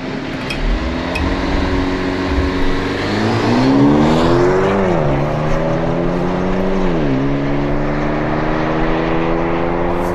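A 2023 Maserati Grecale Modena launches from a standstill in sport mode, its engine climbing in pitch through gear changes with a loud, sustained roar and no talk.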